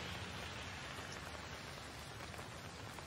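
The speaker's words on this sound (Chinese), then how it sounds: "又下雨了，这几天天天下雨" Rain falls steadily in a street, a soft, even hiss with a scatter of droplets that stays quiet and unchanging throughout.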